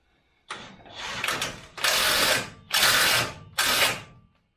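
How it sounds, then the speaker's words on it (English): Impact torque gun spinning lug nuts off a Ford F-350 during a rear brake job, heard as four loud bursts of rattling, whirring mechanical noise separated by short pauses, close up with no talking. "I remember this torque gun will take off lug nuts on a semi"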